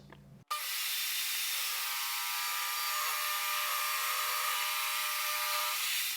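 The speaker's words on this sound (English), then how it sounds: "This will have to be sanded down a little bit more" A power sander works steadily on a wooden runner board for a table saw infeed extension, giving a continuous loud, close whirring hiss that holds even for several seconds after starting abruptly.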